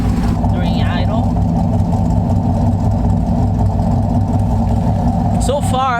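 LS2 V8 engine idling steadily after a headers install, a continuous low rumble throughout with a brief higher whine near the end.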